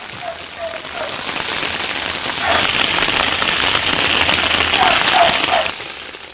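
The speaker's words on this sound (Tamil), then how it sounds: "அரை மணி நேரத்திற்கு மேலாக பெய்த இந்த மழையால் குளிர்ந்த சூழல் நிலவியது." Moderate rain falls across the suburbs of Coimbatore, a dense, steady hiss that swells slightly midway and holds loud and close throughout.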